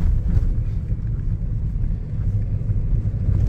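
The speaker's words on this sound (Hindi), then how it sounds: "10 की स्पीड में गाड़ी चल रही है" A car crawls at about ten km/h over a badly potholed road in Haryana, a heavy low rumble and jostling road noise running continuously, close and fairly loud.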